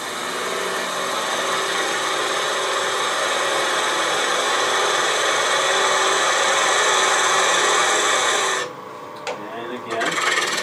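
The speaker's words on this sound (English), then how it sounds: "I'm going to use the traditional method of using a spindle gouge because it's a little fairly deep." Steady close rasping and scraping of a 1/2 inch spindle gouge cutting spinning wood on a lathe, continuous for most of the clip before briefly dropping off near the end.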